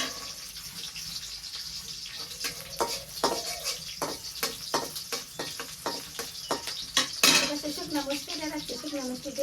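Onion tossed into plenty of oil in a wok gives a sizzle, with repeated scraping and clattering stir strokes in a brisk, uneven rhythm and a louder splash of frying near the end.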